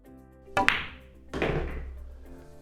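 Two sharp pool-ball knocks, the cue ball hitting the 9-ball then a second clack a moment later as it drops or strikes the rail, close and clear with a soft room hum between.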